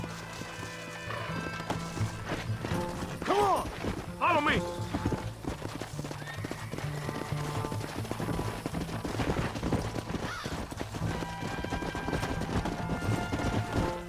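Hoofbeats of a horse running in the Western video game Red Dead Redemption, with steady clip-clop and a couple of whinnies, mixed under game music, gunfire and shouted dialogue.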